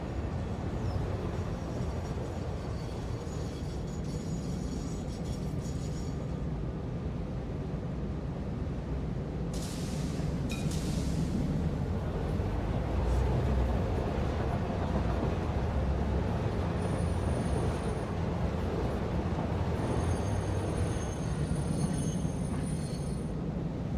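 Train in the video game Satisfactory, a steady low rumbling drone of rolling rail noise that continues throughout with little change, with brief higher clanks partway through.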